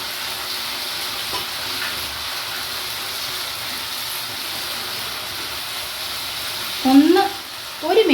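Crushed green chilli and ginger hiss in a hot pan as they are stirred, a steady close sizzle with a few sharp scrapes near the end and no talking.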